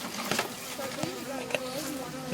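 Honey bees buzz around a hive while drinking sugar water, a close, continuous droning hum with a few louder passes as individual bees fly near.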